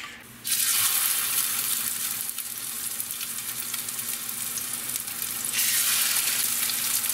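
Garlic and spicy peppers frying in avocado oil, a loud close sizzle that bursts in suddenly, holds steady with a slight dip in the middle, then surges again near the end, with a faint low hum beneath.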